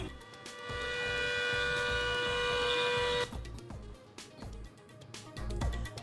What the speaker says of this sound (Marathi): हल्ल्याचा सायरन वाजवून दिला इशारा